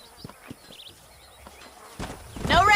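Horses walking with hollow clip-clopping hooves in the video game Red Dead Redemption, a few sparse steps followed by a louder cluster of hoofbeats and a rising whinny-like sound at the close.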